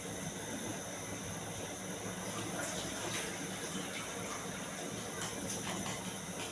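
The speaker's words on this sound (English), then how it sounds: "So I'm just going to add more water to it." Water pouring steadily into a pot of boiling chicken sauce, a continuous rushing splash that holds even from start to finish, close by.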